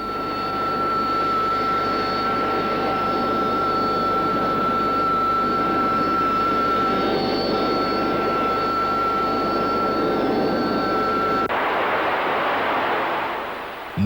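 An F-111 style jet fighter, an 8B variant with a bulged canopy, taxiing out: a loud, steady jet engine whine and roar held close for a long stretch, then cutting off abruptly near the end.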